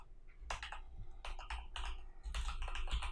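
Rapid typing on a computer keyboard in bursts of clattering keystrokes, close and fairly loud, with short pauses between runs of keys.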